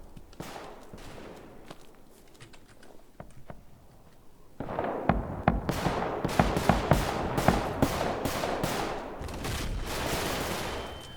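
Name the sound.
gunfire in the Roblox FPS video game Front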